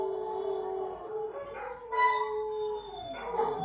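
Pet dogs indoors howl and yip together in long, wavering, overlapping tones at moderate distance, with no talk over them.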